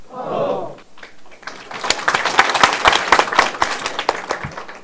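After a brief spoken word from a lecturer, an audience at a political law lecture bursts into clapping, a loose, uneven patter of hands that grows and stays moderately loud to the end.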